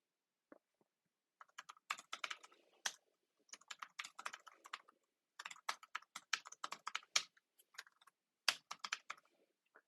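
Account details are typed on a computer keyboard in quick bursts of crisp, close key clicks separated by short pauses, in an otherwise silent room.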